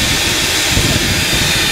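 A juicer-blender combo motor runs at high speed, giving a loud, steady whirring roar that holds without letup from start to finish.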